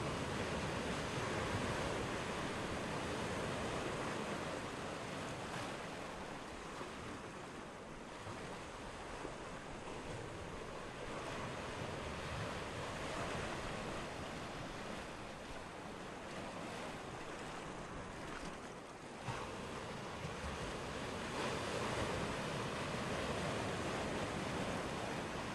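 Waves and surf wash steadily on the shore of Bärwalder See, the largest lake in Saxony, a continuous broad rush of water mixed with wind buffeting the microphone, with no voices.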